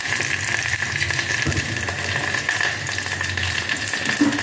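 Okra sautés in a pan for a buttermilk kuzhambu, a steady frying crackle with a light hiss and occasional soft scrapes or rattles, close and unbroken, without speech.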